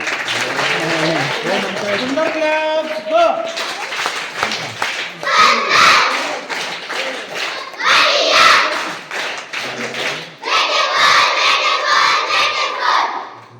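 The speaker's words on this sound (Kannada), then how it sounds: "ಎಲ್ಲರೂ ಚಪ್ಪಾಳೆ ತಟ್ಟಿ" An audience claps at a religious ceremony, a birthday and first-letters (aksharabhyasa) rite with children present: bursts of applause come and go, mixed with crowd shouts and voices.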